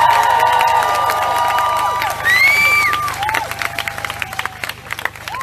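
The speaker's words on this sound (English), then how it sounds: "Okay, our next speaker, and I want you to really give a huge cheer, is Wrack from the Fire Brigade Union." A crowd at a Grenfell justice rally cheers, whoops and claps loudly for an incoming Fire Brigades Union speaker, with high shouts and whistles, the roar easing into scattered clapping.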